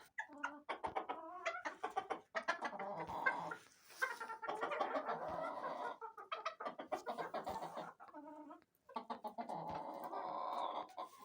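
Hens cluck and chatter at a morning feeding, with a rooster crowing now and then, a busy close flock calling almost continuously and no human voices.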